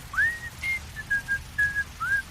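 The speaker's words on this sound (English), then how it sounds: "started whistling a bit from the overture to Carmen" A person whistles a short melodic tune, clear sustained notes in a rising and falling phrase, close and alone.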